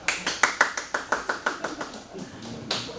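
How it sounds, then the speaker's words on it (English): Several people clap in a sparse, uneven rhythm at a town board meeting, about a dozen distinct claps over a few seconds before they thin out. Faint room noise and a murmured voice sit beneath the later part. "We're clapping because he's done?"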